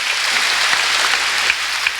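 A church congregation at a Sunday worship service claps together, a dense steady wash of hands with no talk over it.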